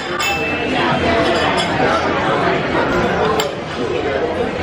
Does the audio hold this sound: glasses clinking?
yes